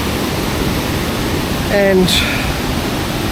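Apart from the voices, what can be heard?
Kuang Si waterfalls rushing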